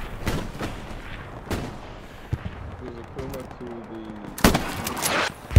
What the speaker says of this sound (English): That friendly artillery coming down.